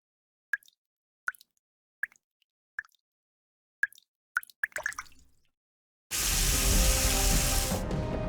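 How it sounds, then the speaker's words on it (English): In the video game NIKKE, water drips from the ceiling in about six separate plops spaced roughly a second apart, then a faster cluster of drips, before a sudden loud rushing wash of water takes over. "Water's coming from the ceiling!"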